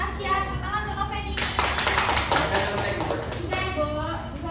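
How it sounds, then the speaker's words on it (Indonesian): Classroom of fifth-grade pupils clapping for a classmate, a burst of dense, fairly loud applause in the middle of the moment, with voices chattering before and after it. "Tepuk tangan untuk Noveni."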